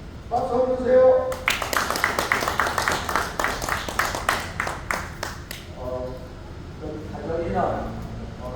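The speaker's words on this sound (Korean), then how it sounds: "박수 한번 주세요." Crowd at an outdoor political rally and car-parade send-off in Busan breaks into a burst of clapping for several seconds after a speaker's introduction, fading as talking resumes.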